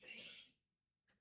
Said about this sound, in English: Sorry, he sneezed.